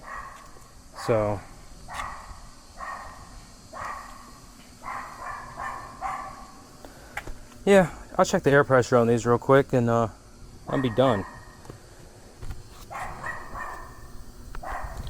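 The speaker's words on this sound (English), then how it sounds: "That dog is a menace." A dog barks repeatedly in short bursts, first at moderate distance and then in a louder, rapid volley, while someone speaks nearby near a freshly painted Xpress jon boat.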